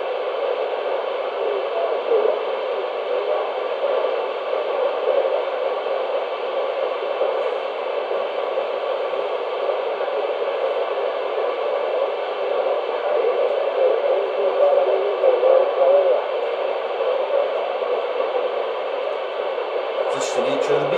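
CB radio skip static, a continuous band-limited hiss with faint, barely audible distant voices buried in the noise, steady throughout and cut off abruptly at the end.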